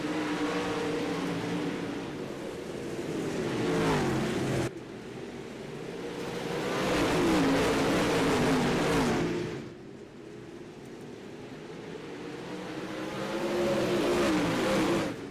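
Pro Late Model dirt race cars roar past at I-55 Speedway, loud engines rising and falling in repeated waves as the pack sweeps by, with a sharp cut between passes and no talk.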